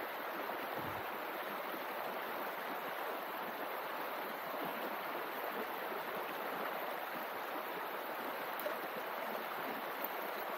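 A mountain stream rushes steadily at the outflow of an upper fell lake, a dense continuous broadband water roar close to the microphone, unbroken and without voices for the whole stretch.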